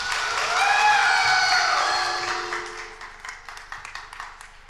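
An indoor audience at a film launch event applauds, the clapping swelling, holding, then thinning out into scattered claps, with a tonal musical cue sliding underneath at the start.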